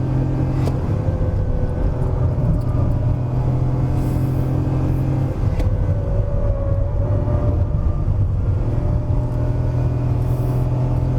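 A Perodua Ativa with a 1.0-litre turbo engine and front-wheel drive climbs a steep hill road in third gear, its engine drone loud and steady with a deep rumble and faint tyre and road noise.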